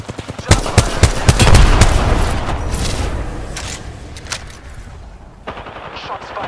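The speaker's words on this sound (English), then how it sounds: "Shots fired and they're hitting me." Rapid automatic gunfire in the Apex Legends battle royale shooter, aimed at the player: dense bursts of loud, close shots that crowd together in the first half, then thin out into scattered cracks and fading echoes.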